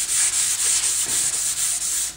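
Close, loud back-and-forth rasping of 400 grit sandpaper worked over a backhoe part, in even repeated strokes with short gaps between them and no voices.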